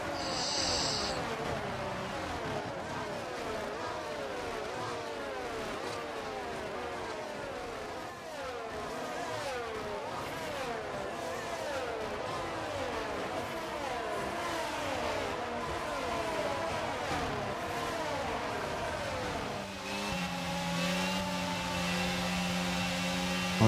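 Formula 1 car engine on the formation lap in the F1 22 video game, a continuous high revving drone rising and falling with gear changes, steady and close throughout, with the engine note shifting to a lower sustained tone near the end.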